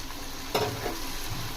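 Tomatoes and tamarind cook down in a pan over medium flame, giving a soft steady sizzle with one brief stirring scrape partway through; no voices.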